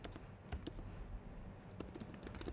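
Rapid keyboard typing while writing an h1 header in Angular code, clicks arriving in quick irregular bursts with short pauses, close and fairly quiet over faint room noise.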